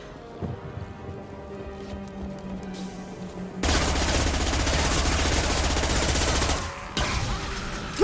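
Rapid, sustained gunfire in Mass Effect 2 Legendary Edition, a few scattered shots at first, then a loud continuous burst of automatic fire that stops briefly and starts again, ending in a sharp crack.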